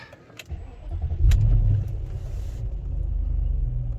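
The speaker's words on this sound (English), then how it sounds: "now just a second to start the car." A BMW X5 4.4i V8 cranks briefly and catches, then settles into a low, steady idle rumble, close and alone.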